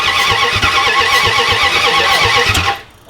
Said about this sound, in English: I hear compression leaking.